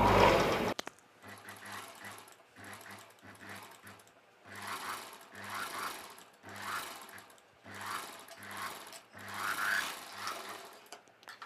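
An electric sewing machine stitches a long dress in repeated short runs, about seven bursts of rapid needle whirring separated by brief pauses, close and fairly quiet.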